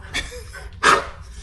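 A dog gives two short barks, a faint one followed by a louder, closer yelp, with quiet pauses between them.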